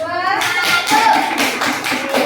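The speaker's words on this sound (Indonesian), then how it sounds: "Kasih tepuk tangan buat kelompok 2." Children in an Indonesian classroom give a round of applause for a student group: brisk, dense clapping from many hands, close and fairly loud, with a few young voices mixed in.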